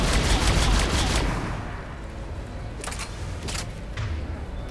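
Gunfire in Mass Effect 3 as an enemy is shot, a burst of rapid loud shots at the start followed by a few sharper isolated cracks later over quieter game ambience.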